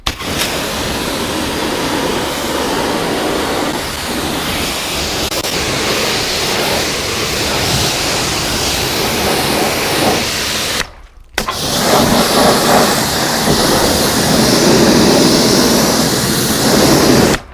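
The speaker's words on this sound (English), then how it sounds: "this jet wash is on the widest fan, and the higher volume, wider fan, you get less pressure" A pressure washer on its widest fan sprays hard and steadily at close range on a Porsche GT3 RS, a loud broad hiss that cuts out briefly for a second before resuming.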